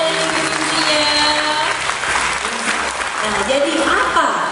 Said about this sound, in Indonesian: Tepuk tangan dong buat teman-teman kita dan mimpi-mimpinya.